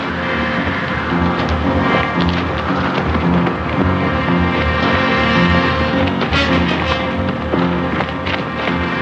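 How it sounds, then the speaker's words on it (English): Heavy rain pours steadily through a thunderstorm in a Western drama setting, with low rumbling thunder rolling underneath and scattered tapping of drops on surfaces, loud and continuous. "The thunder must have spooked them."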